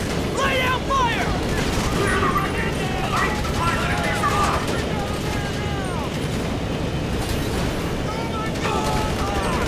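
Gunfire in Grand Theft Auto V during an aerial battle, loud dense bursts and crackling volleys over a constant roaring engine bed, with voices shouting at times.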